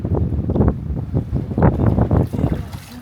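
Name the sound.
strong wind at the seashore while crab fishing in Diu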